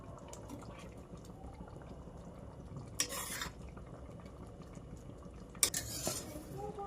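A metal spoon clinks twice against a pot or plate while tomato curry is served, with two sharp, distinct clinks a few seconds apart over a quiet, low kitchen background.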